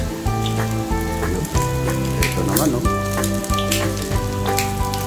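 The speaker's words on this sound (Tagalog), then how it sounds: "Lalagas-lagas na yung mantika dito." Pork sisig sizzles loudly in hot oil with ice added for crispness, a dense steady crackle and hiss under music, with a brief spoken phrase.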